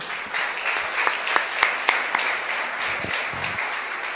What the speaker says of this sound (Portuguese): e as palmas exaltam, Senhor